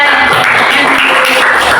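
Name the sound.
applause for classmates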